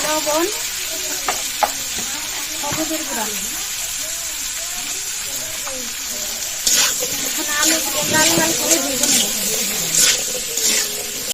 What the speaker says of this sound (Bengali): খুব ভালো করে ভাজা হয়ে গেছে এবার তুলে নিব